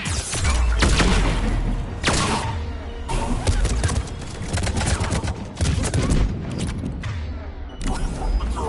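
Heavy gunfire rattles through a Mass Effect 3 battle on the salarian homeworld Sur'kesh, with dense bursts and booming impacts continuing almost without a break, loud and close, mixed with faint voices.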